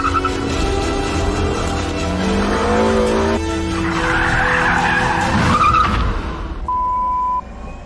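A car skids through a handbrake turn with a loud, close tyre squeal over a revving engine, then the squeal fades and a steady tone holds briefly as the car settles.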